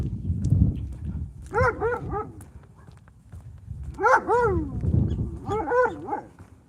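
Nearby dog barks out in clusters of two or three sharp yips and woofs, repeating three times over a low rumbling background like passing traffic or footsteps outdoors.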